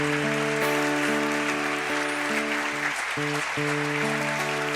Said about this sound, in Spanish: denle una ofrenda de palmas al Señor por la zona 8